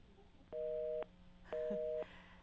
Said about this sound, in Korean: 전화 연결이 지금 잘 안 되고 있는 것 같습니다